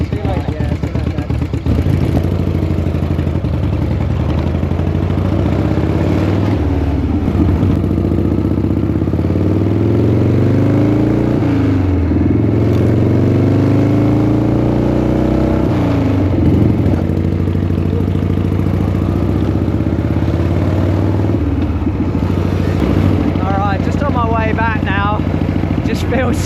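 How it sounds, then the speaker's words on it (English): An old Harley shovelhead motorcycle rides along with a loud, close, continuous engine drone that rises and falls in pitch as it speeds up and eases off, mixed with steady wind rush. "Feels so different riding this old shovel compared to that Enfield Shotgun 650."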